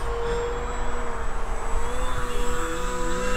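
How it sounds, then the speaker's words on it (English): A Durafly Efxtra 950mm electric RC plane makes a low pass at full throttle, its motor a steady whining drone with a slight pitch bend as it goes by, loud and close throughout with no talking. "So we're gonna do a low pass, full throttle."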